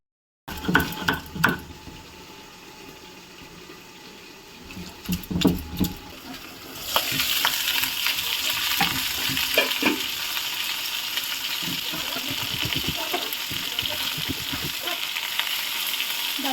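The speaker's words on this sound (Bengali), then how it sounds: "ভাজা ভাজা হয়ে গেছে, তারপরে ফুটতেছে।" Loud, continuous sizzling of boal catfish frying in hot oil in a pan, with occasional clinks and stirring sounds, building into a steady crackling hiss.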